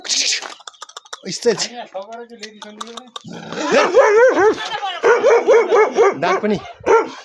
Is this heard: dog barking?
yes